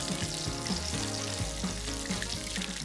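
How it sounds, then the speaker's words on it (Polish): Spanish mini croquettes fry half-submerged in oil, giving a soft, steady sizzle and bubbling at moderate distance, with no one talking. "Krokiety smażę zanurzone do połowy w oleju."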